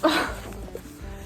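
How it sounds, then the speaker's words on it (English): A dog gives a single short, close bark at the start, then quieter faint whimpering noises trail off in a calm indoor room. "This is actually my brother's dog"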